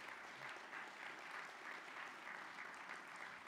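Steady audience applause for a distinguished guest speaker, a Green Beret and NFL athlete, at a Memorial Day remembrance ceremony. Even, sustained clapping from a crowd runs through the whole stretch at moderate distance with no voices.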